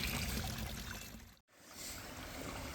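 Water from a brook pouring steadily through a pipe, a continuous splashing rush with one brief dropout midway.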